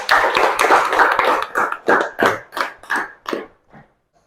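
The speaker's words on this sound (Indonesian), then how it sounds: "Iya, tepuk tangan untuk Mas Faiza." Students in a classroom clap for a classmate, a dense burst of many hands that thins into several distinct, rhythmic group claps before stopping, close and fairly loud.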